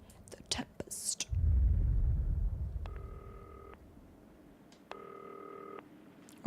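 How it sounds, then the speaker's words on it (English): A desk telephone rings twice in the broadcasting game Not For Broadcast, two short trilling bursts about a second apart after some clicks and a low rumble. "we have to answer the phone"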